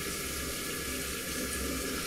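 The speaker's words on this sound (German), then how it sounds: "Und zum Schluss halte ich das Pad noch einmal unter Wasser, reibt den Pinsel dabei, damit auch der restliche Schaum da rauskommt." A paintbrush is rubbed against a cleaning pad held under running water, a steady, close rush of flowing water that holds evenly for the short stretch with no talking.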